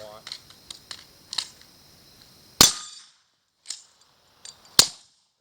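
Two sharp, loud pistol shots ring out about two seconds apart at a night shoot, each with a short decaying tail, amid scattered clicks and faint handling noises; people murmur softly earlier.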